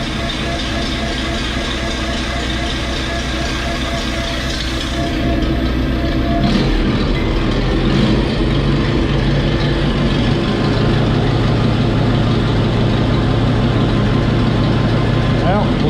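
An old engine runs rough after sitting all winter with its fuel float stuck from an empty tank. It gives a continuous, loud, uneven chugging idle that swells slightly partway through.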